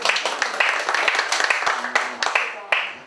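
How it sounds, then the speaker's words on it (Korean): Audience applause at a village-planning community meeting, a few seconds of moderate, uneven clapping from a modest indoor crowd. "열심히 승리하신 우리 임수경 선생님께 박수로."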